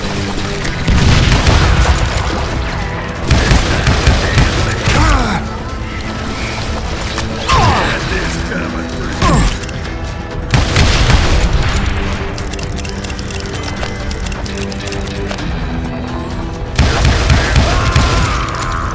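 Gunfire in the Western shooter Call of Juarez: Gunslinger, with repeated loud bursts of shots and booming impacts over a dense game soundtrack, rising and falling in waves throughout.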